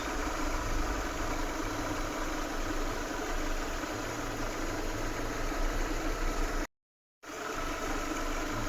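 A Peugeot car engine idles on a rich fuel mixture, a steady close, even mechanical hum with a constant rumble, cut by a brief silent gap near the end before resuming.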